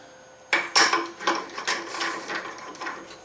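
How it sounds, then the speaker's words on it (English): A 90-degree 4-flute carbide chamfering bit cutting a chamfer on a miniature M1911 magazine part, heard as a quick series of close, bright chattering cutting bursts over a steady machine hum. "for the machining of the chamfer, I'm using a 90-degree 4-flute carbide chamfering bit"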